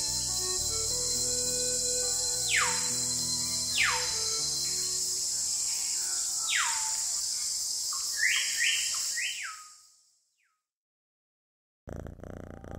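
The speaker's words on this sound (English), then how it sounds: "And beautiful flocks of exotic birds." A group of exotic birds gives repeated sharp, descending chirps over a constant high insect-like trill, clear and fairly close, before everything cuts to silence and then briefly resumes.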